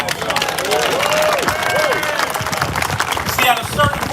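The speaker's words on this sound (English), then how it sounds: "Give them a round of applause" A crowd at a reparations rally applauds two survivors of the Tulsa race massacre, with steady sustained clapping and cheering throughout and voices mixed into the crowd noise.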